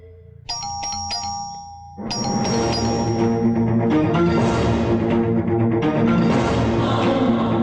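An electronic doorbell chimes a few clear tones, then a louder, denser ringing sound fills the rest of the clip at close range.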